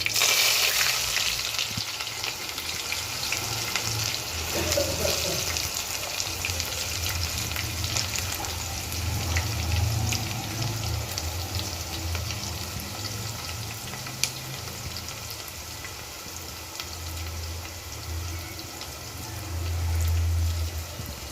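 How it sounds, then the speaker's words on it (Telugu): Thinly sliced onions sizzle in hot oil with curry leaves for a liver fry, a steady close crackle running the whole time with small bursts of spatter and no talk. "కరివేపాకు వేగిన తర్వాత ఆనియన్స్ వేసుకోవాలి సన్నగా కట్ చేసిన ఆనియన్స్ వేసుకోవాలండి"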